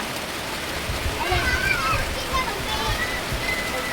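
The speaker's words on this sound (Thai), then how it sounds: "ฝนตกแบบนี้ก็คือมันจะลำบากอะไรทุกคน" Steady heavy rain and rushing water fill the scene during a storm in Laos that has lasted three days. The wash is constant and close, with people talking and calling over it.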